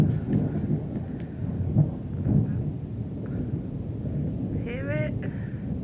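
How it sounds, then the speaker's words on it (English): Thunder from an approaching thunderstorm on a Tuesday morning: low distant rumbles rolling under steady wind and outdoor noise, with a brief high whistling sound near the end. "It's a thunderstorm coming."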